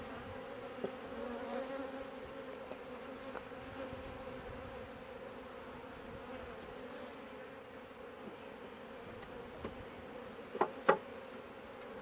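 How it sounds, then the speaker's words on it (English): Bees hum steadily at an open beehive during a hive inspection, a continuous low drone at moderate level with a couple of brief sharper bumps near the end. "just some bees sitting there"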